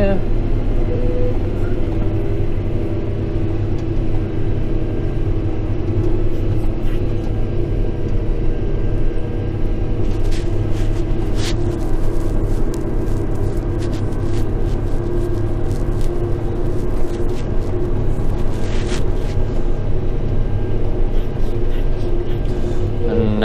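Fendt tractor driving across a field, a steady low engine drone with a constant rumble from the cab, and someone talks over it throughout.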